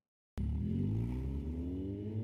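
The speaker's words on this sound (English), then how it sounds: "The sound of a powerful engine shook the underground air" A powerful car engine in an underground space bursts to life and revs hard, its rising harmonic roar loud and close, sustained without pause in a Steins;Gate 0 game scene.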